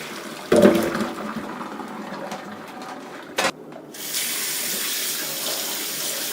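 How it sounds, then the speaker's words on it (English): Cold tap water runs over boiled chicken drumettes in a kitchen sink. A faint trickle and a brief clatter come first, then a steady, strong rush of running water fills the last couple of seconds. "So just give the chicken drumettes a quick rinse in cold water."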